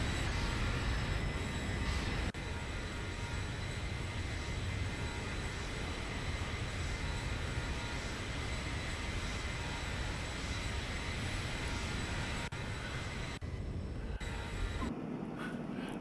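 An airliner departs in a flight simulator game with a steady, dense engine roar that continues unbroken, then thins and cuts out near the end.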